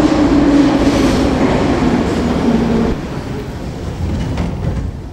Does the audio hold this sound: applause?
no